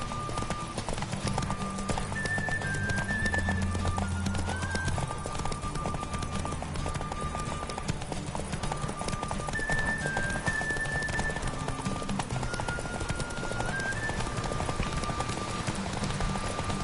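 Horse galloping in a PS4 video game, with rapid, continuous clip-clop hoofbeats over steady game music and background sounds.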